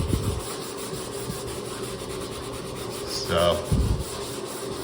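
Drywall spot being sanded by hand with a microfiber towel wrapped around a wood block, giving steady close rubbing strokes with a couple of louder scrubbing bursts near the end.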